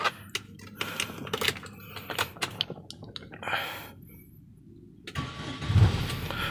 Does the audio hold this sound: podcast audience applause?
no